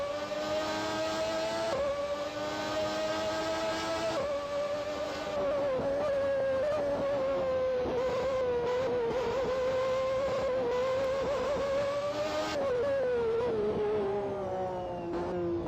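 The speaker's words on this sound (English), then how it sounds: "Cars running." Race cars in the Grand Prix 4 video game run with a continuous high engine whine that rises and falls slightly, steady and loud with no talk.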